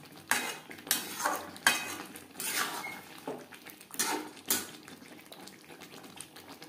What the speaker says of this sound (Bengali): হাই ফ্লেমে 3-4 মিনিট নাড়াচাড়া করে নেব।